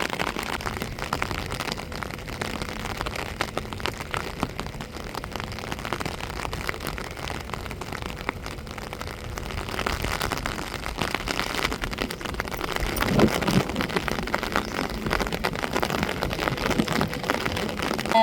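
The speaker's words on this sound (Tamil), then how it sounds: "அவ்வளோக்குள்ள மழை கொட்டிக்கிட்டு இருக்குது பாருங்கள்" Heavy rain pours down over a seaside town, a steady, dense wash of downpour filling the scene without pause and swelling slightly louder toward the end.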